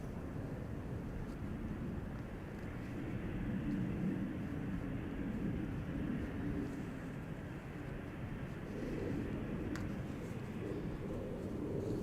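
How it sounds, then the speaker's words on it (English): An Atlas Air Boeing 747 departs Schiphol's runway 36 Center, heard as a steady, distant broadband jet roar that swells slightly and then holds. "there's an Atlas 747 heading to 36 Center"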